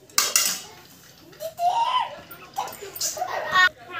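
A spoon stirs and scrapes through cooked rice in a metal pot for home-style temple prasadam, producing irregular clinks and scrapes that arrive in bursts, with a voice and light giggling in the background.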